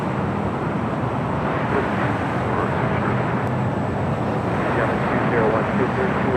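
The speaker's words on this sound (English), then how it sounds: "China Southern Cargo, 777 freighter, next arrival, 25 left" A China Southern Cargo Boeing 777 freighter arrives at LAX, its engines a steady broadband roar at moderate distance, holding constant throughout with no distinct peaks.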